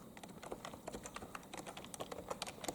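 Keys pressed on a computer keyboard during a Windows 10 upgrade install over Windows 7: a fast, even run of soft, close clicks with no talking.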